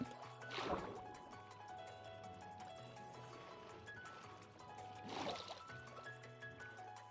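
A boat moves across water in Minecraft with a steady low, looping paddling and splashing drone. Two louder splashy swells rise over it, and soft game music plays underneath. No one speaks.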